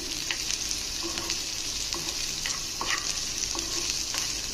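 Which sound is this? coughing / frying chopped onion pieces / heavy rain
frying chopped onion pieces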